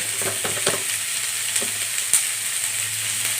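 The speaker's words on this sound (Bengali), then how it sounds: "মোটামুটি ভাজা হয়ে গেছে।" Kuduli achar masala, a Bengali dish, frying and being stirred in a pan: a continuous close sizzle with scraping spatula strokes scattered through it, loud and steady with no talk.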